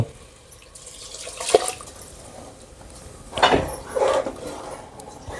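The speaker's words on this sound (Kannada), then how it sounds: "ಇದಕ್ಕೆ ಹಾಕಿ ನೀರು" Water poured from a vessel onto rice in a pot for egg biryani, heard as two or three short splashing bursts close by in a quiet kitchen.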